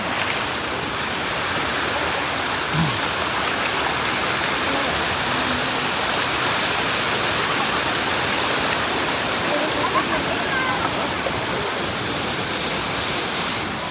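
A mountain stream rushes along the Kedarnath trek route in rain, a dense, unbroken roar of water close by, loud and steady throughout.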